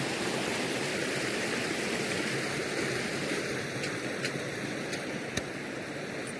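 A small river stream beside a narrow dirt path flowing with a constant broadband rush of water, fairly close and steady, with a few faint clicks near the end.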